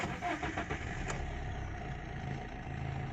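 A Maruti Swift with a rebuilt gearbox starts up for a test drive, its engine catching and settling into a steady loud idle close by, with a little background noise.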